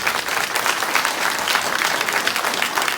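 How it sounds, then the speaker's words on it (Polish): Concert audience gives steady, dense applause throughout, loud and close with a continuous crowd texture and no talking over it. "więc brawo proszę Państwa"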